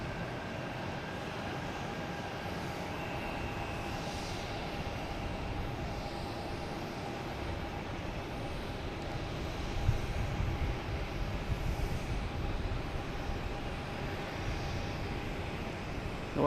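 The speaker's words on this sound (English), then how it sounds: "It is a JetBlue, an A321 Neo coming in from London." JetBlue Airbus A321neo landing at Boston Logan, a faint, steady, distant jet rumble with a thin whine that holds evenly throughout.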